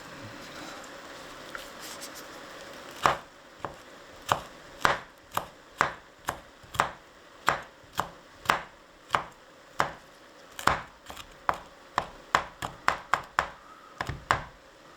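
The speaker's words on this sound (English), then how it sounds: "So I'll chop them up, and then they can go in." Knife chopping chillies on a board for a chilli onion relish, a steady run of about twenty sharp, close taps with short pauses between strokes, no talk.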